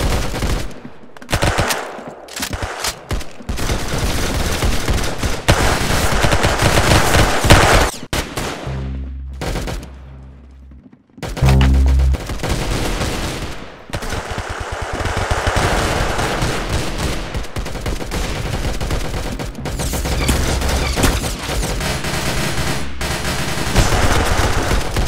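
Gunfire in a shooter video game, dense bursts of rapid automatic shots with short pauses and a brief lull midway, loud and continuous.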